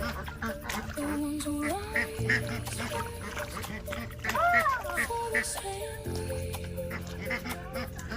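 Ducks quack and honk repeatedly at moderate distance, with a person's voice mixed in among the calls.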